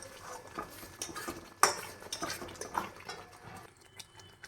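A utensil stirs spinach in a cooking pan for palak paneer, giving soft scraping and clinking with one sharp metallic knock, low and steady with a faint background hiss.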